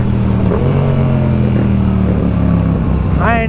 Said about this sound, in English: I told him he could do one rolling burnout, and here he is.